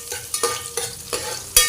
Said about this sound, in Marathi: फोडणी छान अशी परतून घेऊया।